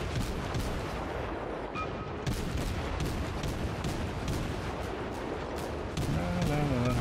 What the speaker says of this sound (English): All guns fire at will